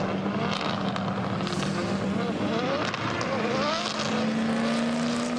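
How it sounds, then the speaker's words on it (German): Two BMW M4 drift cars with over 1000 hp roaring through a drift show at the Nürburgring, a continuous loud engine drone with rising and falling revs and crowd-level ambience, an announcer speaking over it. "Joy und Ilya Hontonchi von den Red Bull Drift Brothers, beide mit dem BMW M4"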